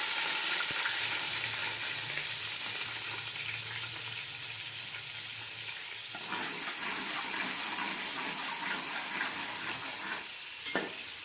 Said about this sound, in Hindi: अब इसमें हम प्याज डाल देंगे।